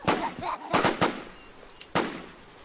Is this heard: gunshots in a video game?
yes